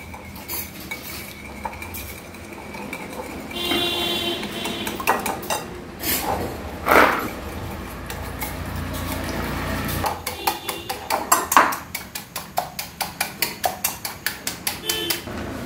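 A spoon beating a mixture with a little sugar in a bowl, with rapid metallic clinks and scraping that build into a fast, steady rhythm of taps against the dish toward the end.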